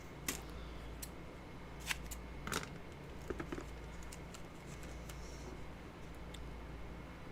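Scissors snip frog tape during helmet painting, a handful of crisp, irregular cuts close by, some in quick pairs, over a quiet room hum with no talk.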